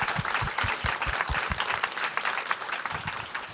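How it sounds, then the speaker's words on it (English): A modest audience at a speaker series event applauds, a soft, steady patter of many hands clapping at moderate distance, continuing evenly for a few seconds without voices over it. "Round of applause."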